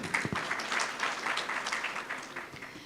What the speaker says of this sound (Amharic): እዛ ሳይድ ብቻ ነው ጭብጨባ የሰማሁት።